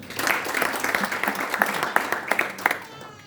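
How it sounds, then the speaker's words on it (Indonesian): A crowd applauds steadily for a few seconds at a church service, dense clapping with a few sharper claps standing out, fading away at the end. "Wah, tepuk tangan dong."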